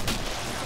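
A single heavy hand cannon shot from Killing Floor, a loud, abrupt boom with a short ringing tail.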